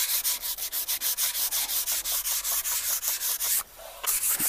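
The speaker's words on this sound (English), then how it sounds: "taking as much as you can off, some sandpaper. Probably go with 120 grit." Repeated back-and-forth strokes of 120 grit sandpaper rubbing over a homemade wooden sandboard, close and steady, with a brief pause near the end.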